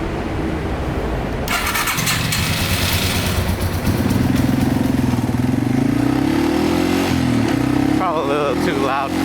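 Yamaha TW200 motorcycle engine with a new foam air filter starting and running close by, a loud steady thumping idle with a few revs, a voice speaking briefly near the end.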